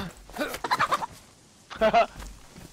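A chicken in the survival game DayZ, giving a quick run of throaty clucks and then a second short burst after a brief pause, close and fairly clear against a quiet background.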